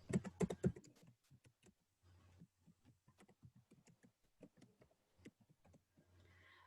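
Computer keyboard keys tapped while filling in company details in cloud accounting software, a sparse run of light clicks, close and fairly quiet, with a short burst of louder keystrokes at the start.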